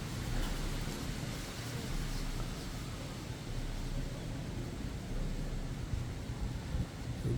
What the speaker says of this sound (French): il y a vraiment des rafales de vent un peu partout.